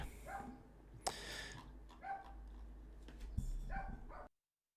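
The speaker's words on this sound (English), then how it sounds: "my dog's on a barking tirade today" A dog barks repeatedly in short, sharp bursts at irregular intervals, heard faintly from a distance against a quiet indoor background before the sound cuts off.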